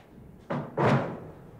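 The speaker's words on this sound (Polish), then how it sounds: "Zamknij drzwi, no." A door closes with two thuds, a lighter knock and then a heavier slam, heard close and alone in a quiet room.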